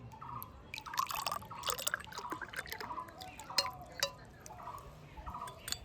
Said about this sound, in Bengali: এবারে ছাঁকুনি দিয়ে এইভাবে ঢেলে নেব